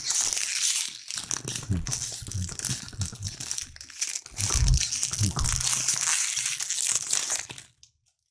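Foil booster pack wrappers for Yu-Gi-Oh cards crinkle and crunch loudly up close in continuous handling bursts for about seven seconds before falling silent.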